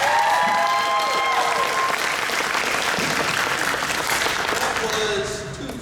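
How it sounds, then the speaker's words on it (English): An audience claps loudly after a drama camp performance of Ransom of Red Chief, dense sustained applause with a few whoops and voices, fading slightly at the end. "Give them another big round of applause."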